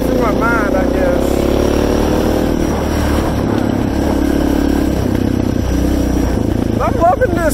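A loud Suzuki DR650 motorcycle engine with a new aftermarket exhaust rumbles and revs nearby on a mountain gravel road, with throaty exhaust noise throughout and wind buffeting, while a voice talks over it.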